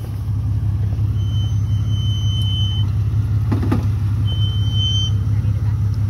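A Jeep XJ engine idling and crawling off road gives a steady low rumble throughout, close and continuous, with people talking over it.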